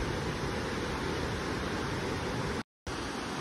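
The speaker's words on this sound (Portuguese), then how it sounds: "Aqui tem uma cachoeira." A waterfall in a canyon of Brazil's Serra Gaúcha roars as a constant, even wash of broadband rushing water, broken once by a short silent dropout near the end.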